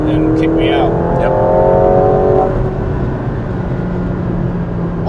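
A McLaren 720S Spider's turbocharged engine accelerates hard with a rising, loud roar, then settles into a steady drone.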